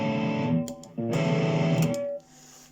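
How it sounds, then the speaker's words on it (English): An electric guitar played through a blues pedal set as a boost distortion rings out in two gritty, sustained chords with brief gaps and pick noise between them, then drops to a quieter decay. "I basically use it as a boost, like a boost distortion."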